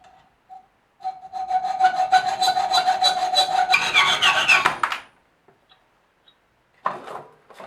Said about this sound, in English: I'll just cut it and I'll put a new thread on it.